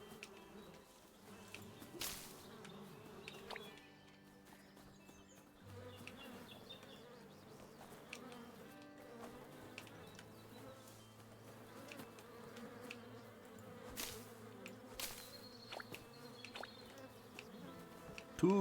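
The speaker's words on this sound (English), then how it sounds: "Just like earlier today, I have 2 bees." Two bees in the video game Chop Chop Inc hum quietly and continuously, with occasional whooshing swipes and soft tones in the background.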